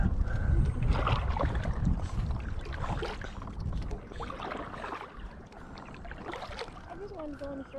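Kayak on the Saluda River in February, paddle strokes and water swishing near the microphone with wind noise, splashes rising and fading in a loose rhythm, a voice speaking briefly.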